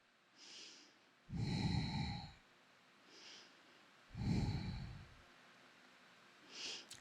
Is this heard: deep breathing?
yes